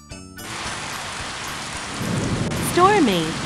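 Stormy weather: steady rain hisses on surfaces throughout, with a low rumble of thunder swelling near the end and a brief high chirping whistle over the top.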